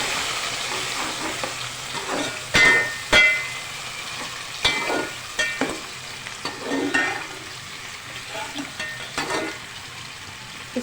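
Onions frying with garam masala, turmeric and chillies in a pan for fish biryani, a steady close sizzle broken by repeated loud scrapes and knocks of a stirring spoon, with no talk.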